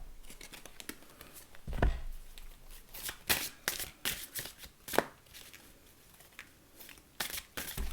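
A deck of oracle cards being shuffled by hand, a steady run of papery riffles and slaps close up, with no talking over it.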